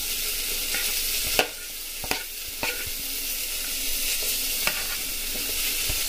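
Carrot, onion, radish, tomato and beans sizzle in a pan for daliya. A spoon scrapes and stirs them in a few distinct knocks over a steady close frying hiss, with no talking.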